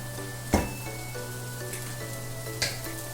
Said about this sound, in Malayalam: പൊടികളുടെയൊക്കെ പച്ച മണം മാറുന്ന വരെ നന്നായിട്ട് വഴറ്റണം.